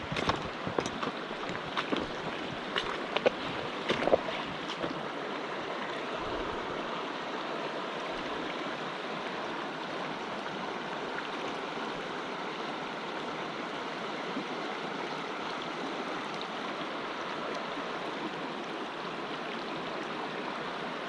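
A creek flows in a steady, low rush of water close by, with a few brief knocks and bumps early on before the flow carries on alone.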